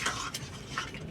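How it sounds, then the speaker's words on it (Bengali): A spoon scrapes and stirs carrot halwa with sugar in a pan, giving a few soft scraping strokes with brief brighter clinks, close by and alone. "দিয়ে ভালো করে নেড়ে নিচ্ছি চিনিটা দিয়ে।"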